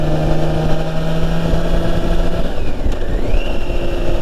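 A motorcycle engine, a K16, drones loudly and steadily with a low rumbling hum, and its pitch briefly shifts before settling again.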